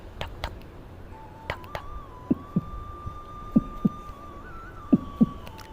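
A steady heartbeat sound effect: paired thumps in an even lub-dub rhythm repeating three times, clear and close over a soft background hum with a faint tone.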